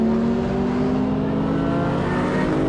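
A BMW M3 E46 fitted with a Karbonius CSL carbon airbox drones steadily at high revs on a race track, its loud, constant engine and induction note heard from inside the car.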